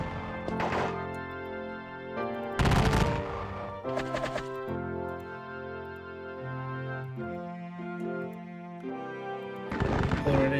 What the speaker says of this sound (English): Exchanging extreme gunfire